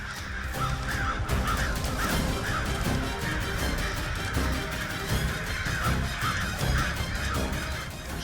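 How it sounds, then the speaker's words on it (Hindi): A large flock of crows caws together in a dense, continuous, overlapping chorus, loud and close, with harsh repeated calls throughout and no talking. "ये इतने सारे काक एक साथ हैं।"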